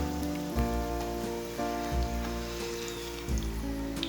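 Keema roti samosas frying in moderately hot oil give a steady close sizzle and crackle, with a few louder pops and bubbling surges as pieces shift in the pan.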